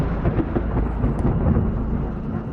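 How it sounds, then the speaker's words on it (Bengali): A thunderstorm with rain, deep rolling thunder rumbling continuously over a wash of rain, loud and heavy in the low range, with no talking. "হঠাৎ চারদিকে ঝড় বৃষ্টি শুরু হলো।"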